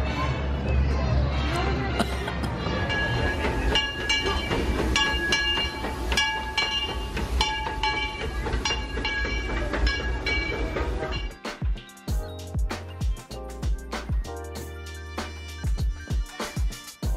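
Disneyland Railroad train pulling out of Toontown Depot, a loud steady rumble with rail clatter and a bell-like ring that drops away midway to sparse clacks and knocks, with crowd noise in the background.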